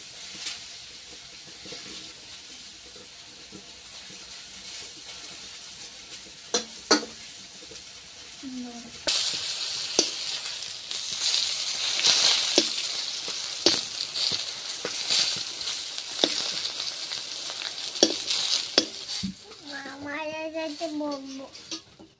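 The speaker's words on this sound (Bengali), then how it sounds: "এবার যা তেল আছে ওই তেলে বেগুনগুলো ভেজে নেব" Eggplant pieces frying in oil in a pan, a soft sizzle that grows louder partway through, with stirring knocks and a voice and speech heard over it.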